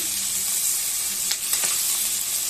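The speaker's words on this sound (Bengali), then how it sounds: "আমি হালকা করে চিংড়ি মাছটা ভেজেছি" Steady, loud sizzling of prawns frying in a pan, with a few brief clinks of stirring partway through; no one speaks.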